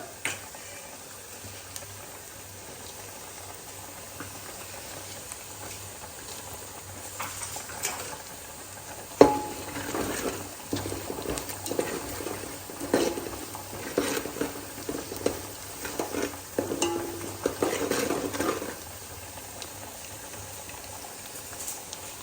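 Sesame seeds dropped into a hot pan of oil and stirred, a sudden crackle after a quiet start, then irregular sizzling and stirring scrapes, moderately close with no talk.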